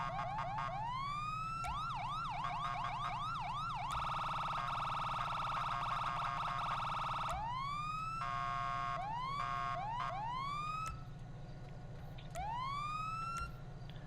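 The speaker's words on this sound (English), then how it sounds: "if the sirens are going" A police car siren in GTA 5 cycles through wailing and rapid yelping patterns, loud and close, switching modes several times over a low engine drone.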